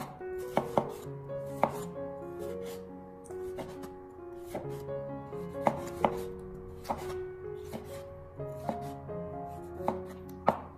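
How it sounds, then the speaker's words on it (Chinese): Knife chopping a peeled, cored tomato into small pieces on a wooden cutting board, a steady run of crisp close knocks at an even rhythm with faint ringing between strokes, no talk. "紧接着我们再把番茄改刀切成小块。"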